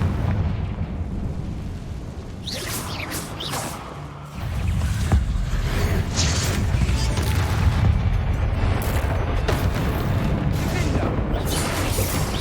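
Confringo spell blasts in Hogwarts Legacy: loud, heavy booms and crackling bursts over dense, continuous game noise that stays loud throughout.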